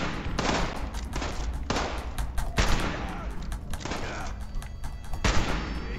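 Gunfire in Fallout 76 comes as rapid bursts of shots split into several clusters, loud and close, with short pauses between the volleys.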